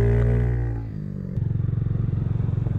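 A Honda Ruckus NCS50 scooter with a CVT transmission rides around town, its engine note dropping from a high whine to a low, pulsing, rhythmic putter, close and fairly loud, with no talking.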